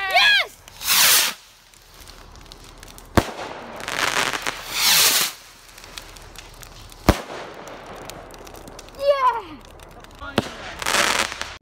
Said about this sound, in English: These are mega rockets.